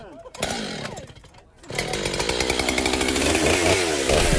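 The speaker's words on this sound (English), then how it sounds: "how the chainsaw cuts it" A chainsaw cuts into a tree trunk, its engine whining and rising to a steady loud snarl close by after a brief pause, with some voice underneath.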